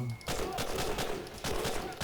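Rapid pistol shots from a Beretta in the Medal of Honor: Breakthrough video game crack in quick succession, several sharp bursts close and loud against a busy battle backdrop, with no talk over them.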